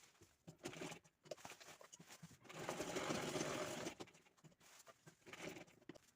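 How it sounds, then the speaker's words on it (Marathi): An electric sewing machine stitches a handbag piece cut from a saree's end panel, its motor whirring in a steady run of about a second and a half between shorter bursts and quiet handling noises. "तो पीस अशा वरच्या साईडनं ठेवून तिथे आपण शिवून घेणार आहे"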